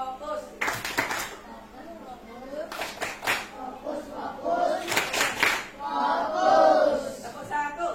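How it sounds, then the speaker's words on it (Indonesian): A classroom of students joins in a rhythmic clapping routine during a coding and artificial intelligence lesson, sharp grouped claps in short bursts under a teacher's voice and children's responses. "Oke, fokus ya, tepuk fokus."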